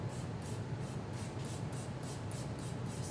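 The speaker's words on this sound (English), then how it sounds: "you're going to take your water bottle and you're going to spray your hair down" Quick repeated spritzes from a spray bottle dampening hair with water, about a dozen short hissing bursts in a steady rhythm, close and fairly quiet.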